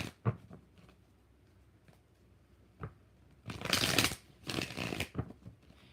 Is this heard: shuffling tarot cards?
yes